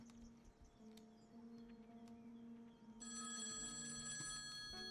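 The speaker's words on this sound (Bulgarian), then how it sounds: "Телефон!" A telephone rings inside a video game, its electronic trill cutting in partway through over a soft, steady game soundtrack with faint chirps.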